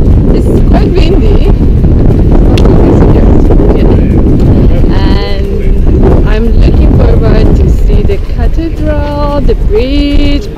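Steady wind buffets the microphone in a constant low roar on a hot day in Florence, while a voice talks over it and traffic noises come and go.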